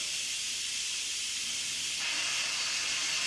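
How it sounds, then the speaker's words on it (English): Steam hisses steadily from the pressure-release valve of an Instant Pot, a loud continuous rush that grows brighter and stronger partway through, with no voices. "I'm going to release the steam"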